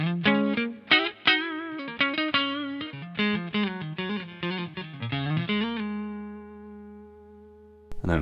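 Clean electric guitar played through the neck pickup split to single coil on GFS Classic II pickups, a quick run of picked notes and chords ending on a ringing sustained note that fades out.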